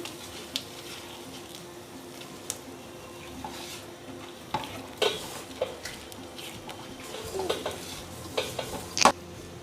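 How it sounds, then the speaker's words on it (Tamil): A masala mixture with potato and tomato is stirred in a pan for an egg omelette. A spoon scrapes and knocks in scattered strokes over a soft background sizzle, with a few sharper metallic taps near the end. "இந்த மசாலா கூட ஃபுல்லாக இதில் சேர்த்துக்கலாம். பேலன்ஸ் இருக்கிறது நல்லா மிக்ஸ் பண்ணி விட்டுக்கலாம்"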